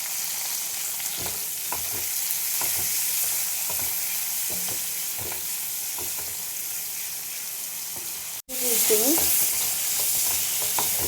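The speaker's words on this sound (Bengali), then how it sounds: "তেলের মধ্যে আমি পেঁয়াজ, আদা, রসুন, টমেটো দিচ্ছি, পরে এগুলো ভেজে নেব" Onion, ginger, garlic and tomato fry in hot oil in a pan, giving a steady close sizzle with frequent stirring scrapes; near the end a brief cut comes before a louder burst of sizzling as more goes in.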